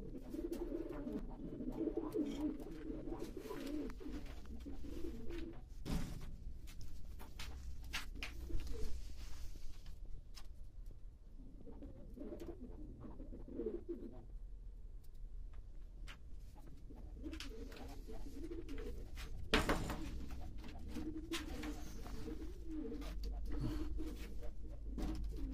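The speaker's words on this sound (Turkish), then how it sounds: "Kümesi göstereceğim arkadaşlar. Kuşlarımız bunlar arkadaşlar." Breeding pigeons coo in a coop, soft repeated throaty calls rising and falling in bursts, with scattered clicks and light rustling, all fairly faint and near.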